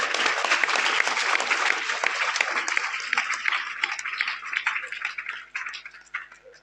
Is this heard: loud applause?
yes